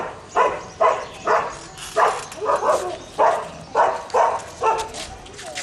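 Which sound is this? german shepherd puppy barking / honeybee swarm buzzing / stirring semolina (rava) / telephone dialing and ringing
german shepherd puppy barking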